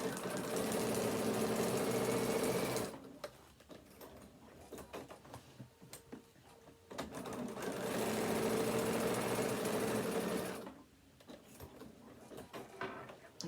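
Sewing machine stitching a fabric phone stand section, two bursts of rapid rhythmic needle clatter each lasting a few seconds, separated by a quiet pause with faint handling noise.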